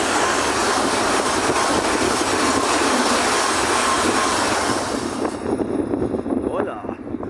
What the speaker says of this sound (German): So, einmal ein ICE bei der Durchfahrt.